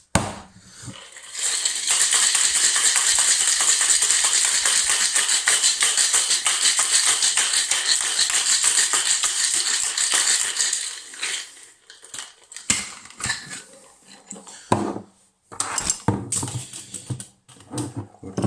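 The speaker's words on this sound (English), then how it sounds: "I'm going to give it an extra wee shake." A whiskey sour is shaken hard with ice in a cocktail shaker: a loud, dense, continuous rattle for about ten seconds, then broken into a few shorter irregular shakes and clinks.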